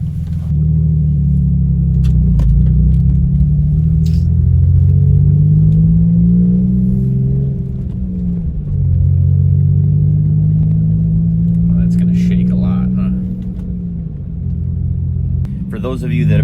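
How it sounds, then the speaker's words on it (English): Inside a Hyundai Tiburon fitted with OBX headers while driving, a loud, deep engine drone and exhaust rumble fill the cabin. The pitch rises and falls with acceleration and gear changes, and a voice is heard at times. "I'll let you guys hear what it sounds like inside the car."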